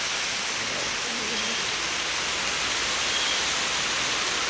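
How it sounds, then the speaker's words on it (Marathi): First monsoon rain pouring down steadily, a dense, even hiss of heavy rainfall close by that fills the whole stretch without a break, no talking. "पहिला पाऊस लगेच पुरा आलेला आहे मस्त असा"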